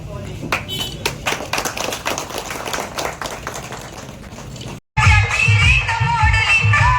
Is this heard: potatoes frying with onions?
no